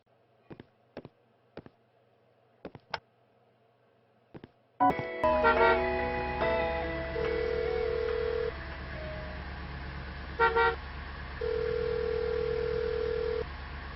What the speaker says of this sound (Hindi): कौन है जिसे इतनी शिद्दत से फोन ट्राई कर रहे हो?